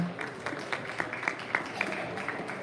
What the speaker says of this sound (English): Let's give all these British breed champions a really big round of applause.